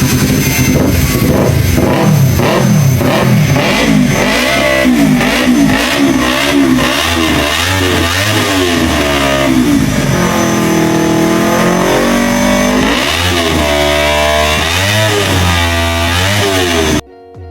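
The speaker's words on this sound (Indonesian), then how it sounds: "Ini dia guys, Yamaha MT25." A Yamaha MT25 motorcycle with a 250cc liquid-cooled parallel-twin DOHC 8-valve engine, revving loudly and close by in repeated rising and falling sweeps, then cutting off abruptly at the end.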